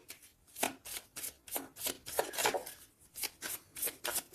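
Tarot cards are shuffled and drawn in a quick run of sharp, close riffling bursts, repeated at an even pace with no talking.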